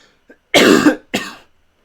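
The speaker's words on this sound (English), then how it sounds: "that was a big cough" Two loud, close coughs in quick succession, the first longer and harsher, with near silence around them.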